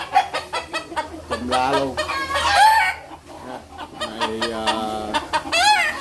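Chickens kept in a small coop of about six square decimetres cluck loudly nearby while a rooster crows twice, the calls overlapping with brief speech.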